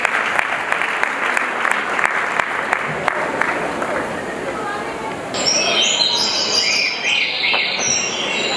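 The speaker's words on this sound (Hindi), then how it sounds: "तो आ रहे विद्यार्थियों के आत्मविश्वास को बढ़ाने के लिए जोरदार तालियों से एक बार उनका स्वागत कीजिए।" Applause from an audience at a school annual function welcoming students rolls on with scattered sharp claps, fairly close, while a voice talks over part of it.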